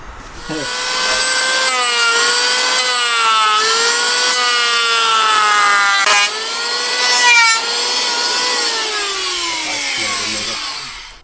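Wood being cut and planed for a one-foot-gauge model build, heard as a steady, loud tool whine with shifting pitch that carries almost unbroken across the clip before dropping away near the end.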